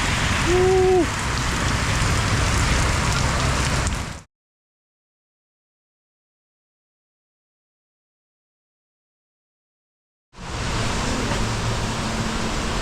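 Heavy rain pouring down in Samut Sakhon, Thailand, a loud, dense hiss of drops hitting surfaces, broken by a long silent gap before the downpour resumes.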